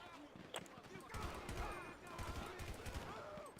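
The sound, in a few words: gunfire in a video game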